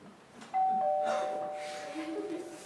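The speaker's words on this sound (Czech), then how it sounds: "Nebo že zase někdo zvoní." A doorbell rings with one sustained electronic chime that holds steady and slowly fades, followed by a softer lower tone, in an indoor scene with faint room noise.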